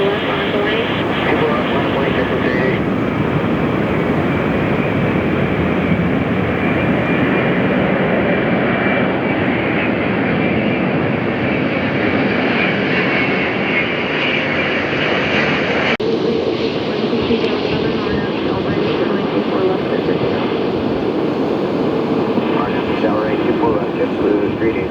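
A JetBlue jet airliner takes off at LAX with a steady, broad roar of engines that holds throughout and shifts partway through as the aircraft climbs away, with voices and radio chatter faintly in the background.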